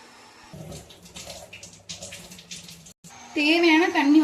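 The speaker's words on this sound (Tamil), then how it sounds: "தேவையான தண்ணி வந்து ஊற்றிருக்கேன்." Water poured into a cooking pot for a black gram (urad dal) curry with shallots, green chillies and tomato; soft clatter and faint murmuring give way to a loud, splashing pour in the final second.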